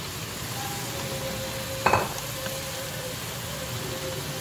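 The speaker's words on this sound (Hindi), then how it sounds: "अब इसके अंदर वेजिटेबल्स डालेंगे। ये हाफ बॉयल की हुई हैं चीज़ें।" Half-boiled mixed vegetables tumble into a pot of cooked chicken for vegetable biryani, a single brief soft thud and splash around the midpoint over a steady low background hiss, with no voices.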